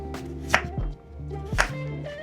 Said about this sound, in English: I'm going to chop them as they are